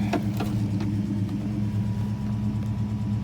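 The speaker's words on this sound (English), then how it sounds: "So the car's been idling for like 10 minutes" A 1958 Studebaker Silver Hawk with a 50s automatic transmission idles after running for a while, giving a steady low rumble with faint mechanical ticking, close and constant throughout.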